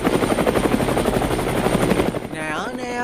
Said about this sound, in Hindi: हेलीकॉप्टर उड़ रहा है। ये देखो ये हेलीकॉप्टर कितना ऊपर उड़ गया।